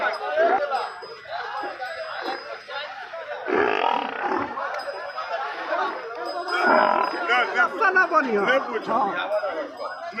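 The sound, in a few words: water buffalo at a livestock market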